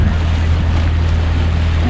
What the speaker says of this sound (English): Super light wind, so we're just motor sailing